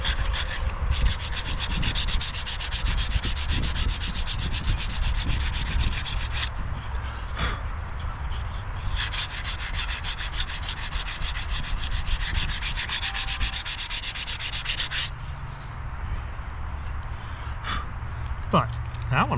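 Sanding a ding on a deck during repair work, with long steady rubbing strokes in two extended passes separated by brief pauses, close and continuous, and a voice faintly present underneath.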